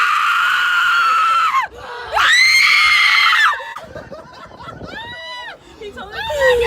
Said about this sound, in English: I need to hear you people scream.